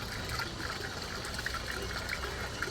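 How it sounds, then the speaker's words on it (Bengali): Liquid plant fertilizer poured into a bucket, a steady close trickling and splashing that carries on without a break for a few seconds. "এই বালতির মধ্যে আমি পুরোটাই ঢেলে দিব।"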